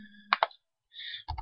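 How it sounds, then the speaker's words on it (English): A few quick plastic key presses on a calculator while entering a compound interest calculation, a pair of taps then a short pause and more clicks, close and fairly quiet. "So let's come over here to our calculator and type it in."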